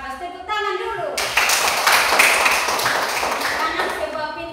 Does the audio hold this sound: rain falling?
no